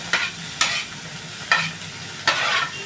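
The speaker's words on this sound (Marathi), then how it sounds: "आपल्या त्या सगळ्या भाज्या त्या फोडणीत टाकाव्या" Onion, tomato and carrot pieces are stirred into hot tempering for upma, giving four evenly spaced bursts of sizzle and scraping over a low, steady frying hiss, close and clear with no voices.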